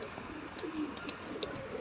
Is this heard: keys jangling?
no